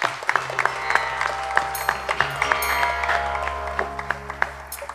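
An audience applauds a sitar player at a tribute concert, scattered sharp claps over a sustained low hum, with sparse claps spread across the clip rather than a thick roar.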